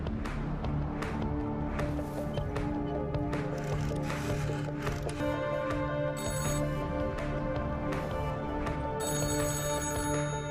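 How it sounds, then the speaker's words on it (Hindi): An office cabin telephone in an action film scene rings on and on, its bright bell tones repeating steadily over a layered, busy background. "अकबर के केबिन का फोन लगातार बज रहा है।"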